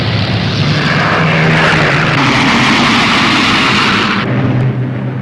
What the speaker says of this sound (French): les 1000 Boeing B-17, les forteresses volantes, décollent d'une vingtaine d'aérodromes disséminés dans le sud de l'Angleterre